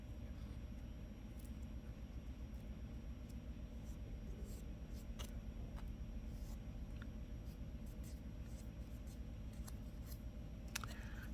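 Scissors trim the edges of a handmade bead-embroidered book-themed earring, giving faint, repeated snips over a steady low background rumble throughout.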